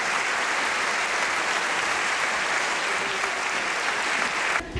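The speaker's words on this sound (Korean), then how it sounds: "관객들의 환호 속에 첫 공연은 이렇게 막을 내렸다." A concert audience breaks into steady, dense applause with cheering after an orchestral performance of Debussy and Ravel conducted by Myung-Whun Chung, loud and continuous throughout before cutting off abruptly.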